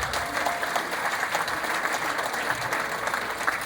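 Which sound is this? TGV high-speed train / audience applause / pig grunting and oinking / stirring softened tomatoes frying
audience applause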